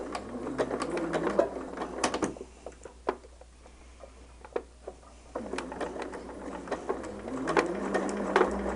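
A sewing machine stitches fabric in short, rapid bursts of ticking, separated by quieter pauses with faint scattered clicks. The sound is close but fairly quiet.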